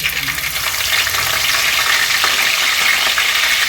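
Curry leaves fry in hot oil for chicken curry with a loud, steady, crackling sizzle close up, with occasional stirring and no talk.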